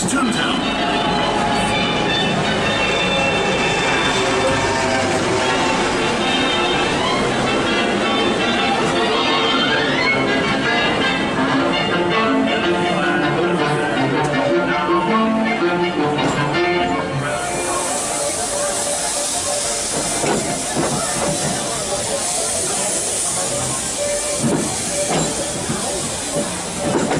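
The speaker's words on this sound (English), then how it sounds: "Thanks for joining us on the Disneyland Railroad." The Disneyland Railroad steam train hisses steadily, with rolling rail rumble and clatter throughout, loud and close, and a brighter burst of steam partway through.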